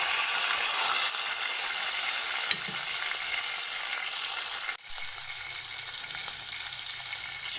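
Meat frying in a pan for a Moroccan sweet meat dish, a steady broadband sizzle that holds throughout, with a brief clink partway and a slight shift in tone near the end.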